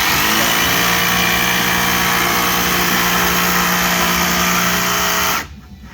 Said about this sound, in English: you'll jigsaw all the holes